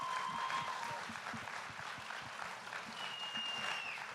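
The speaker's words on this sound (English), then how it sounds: "Please give them a big round of applause" Audience applause for a panel of guests at a justice event, steady dense clapping holding at a moderate, fairly distant level throughout with a faint tone running over it.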